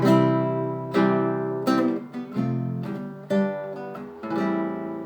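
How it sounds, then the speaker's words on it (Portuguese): Acoustic guitar strums and plucked chords, several separate attacks ringing out and decaying, close and clear with no voices. "Esse é o timbre do violão"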